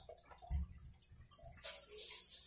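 Water runs steadily from a tap as a shirt is washed beneath it, with a brief thump early on and a fuller rushing stream in the second half.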